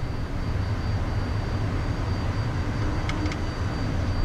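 Private jet engines climbing just after takeoff on a flight to Phoenix, a steady, loud broadband roar with deep low rumble that holds throughout, a couple of faint high clicks near the end.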